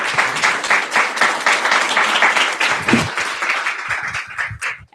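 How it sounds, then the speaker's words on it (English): Audience applause for the speakers at the close of a fireside-chat panel on human trafficking and migrant smuggling: dense, steady clapping from a room of listeners, sustained for several seconds before thinning out at the end. "please help me give a huge round of applause and thanks to our speakers"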